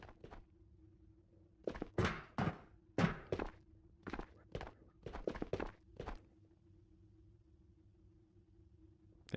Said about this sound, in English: I think I just heard player footsteps in the room over there.